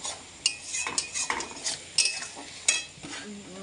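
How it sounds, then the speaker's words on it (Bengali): A utensil stirs and sautés spiced food in a pan on a gas stove, with close metallic scrapes and clinks at an irregular pace over a faint sizzle, and no voices. "খুব ভালো করে কষিয়ে নেবে।"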